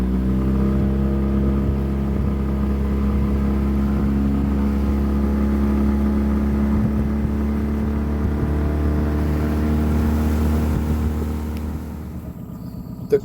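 A motorboat engine on a shallow river hums loudly and continuously, low and close, before easing off near the end.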